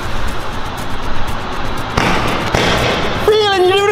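Fireworks fire off the back of a drifting car, crackling and popping over a loud engine and tyre roar, with a whistling rise near the end.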